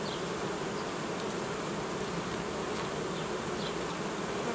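Dense, steady buzzing of many honeybees swarming close by at a hive, a continuous droning hum with no pauses and no voices.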